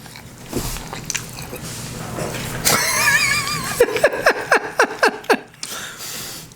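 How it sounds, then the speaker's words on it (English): Someone chews a Wall Market squid sandwich right up against the microphone, starting with breathy noises and then a run of loud, close, wet bites and munches in quick rhythm. "Just get all that chewing sound."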